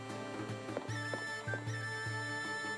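Dragon horses in the Suikoden V video game neigh and whinny while hooves clop steadily beneath them, set against a sustained tonal game backdrop with no talking.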